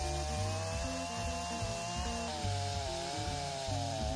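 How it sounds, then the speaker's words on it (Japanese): Chainsaw cutting notches into fallen tree logs being processed into firewood for a wood stove, running continuously with a pulsing engine note that rises and falls as the bar bites into the wood. "チェーンソーで切れ目を入れて"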